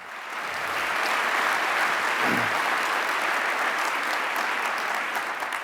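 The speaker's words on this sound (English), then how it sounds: "Let's give him another round of applause." A breakfast crowd at a regional keynote event gives a steady round of applause. It swells quickly, holds at an even level, and carries on for several seconds without speech.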